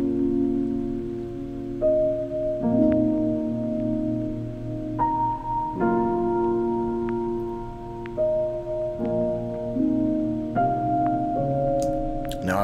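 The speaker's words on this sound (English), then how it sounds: "just creating a simple piano chord progression" A simple piano chord progression programmed in Logic Pro X for a beat, with sustained chords changing roughly every two to three seconds at a steady moderate level and no talking.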